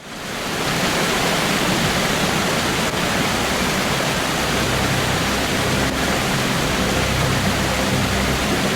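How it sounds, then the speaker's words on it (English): A waterfall pours through the deep Amazon jungle, a steady, loud rushing roar of water that holds evenly from start to finish. "create a 30-second video of a waterfall flowing in the deep jungles of Amazon"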